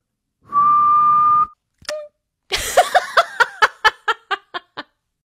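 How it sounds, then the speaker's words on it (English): A person whistles one steady, sustained note, then gives a short chirp, followed by a run of quick, fading giggles. "What's whistling anyway? You put your lips together and blow. Like this."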